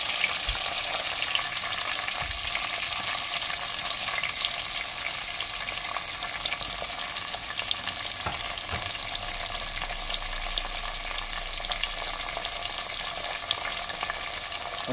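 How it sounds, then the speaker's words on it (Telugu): Tomato and green chillies fry in oil in a pan for ivy gourd chutney, producing a loud, dense, continuous sizzle that hardly changes, with a few faint stirring clicks and no talking. "సో తగినంత నూనె వేసుకొని అవి వేగే వరకు దీంట్లో బాగా కలుపుకోవాలి."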